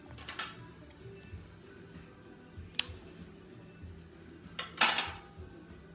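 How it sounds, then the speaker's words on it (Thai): Snips and clicks from cutting the string tied around a homemade sausage in a kitchen, with a few sharp, brief clacks spaced out over quiet background hum and no voices. "แล้วก็มาตัดเชือกตัดเชือกออกนะคะ"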